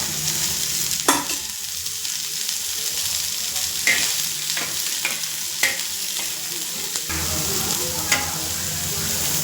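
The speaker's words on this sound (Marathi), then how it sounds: "तेल टाकून भाजून घ्यायचं मस्त" Onion and chickpea curry masala roasting in oil on a griddle, a steady close sizzle broken by scattered scraping strokes and taps of a stirring spatula, with no talking.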